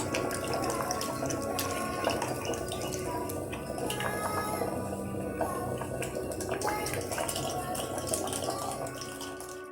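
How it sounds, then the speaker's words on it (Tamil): Water pours and splashes into a pot of horse gram dal in a home kitchen, a continuous trickling and gurgling under steady speech. "இந்த தண்ணி இதில் எடுத்து வச்சு ஊற்றணும்"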